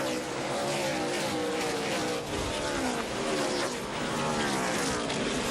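NASCAR race cars roar around the short track at the Bristol night race, a dense, continuous wall of engine noise with passing surges, heard from a distance under faint commentary.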